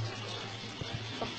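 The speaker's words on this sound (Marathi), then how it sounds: "भांड्यात मी पाणी घेते फक्त" Plain water pours into a kitchen vessel as a brief, steady, close splashing rush at moderate loudness, with no talk.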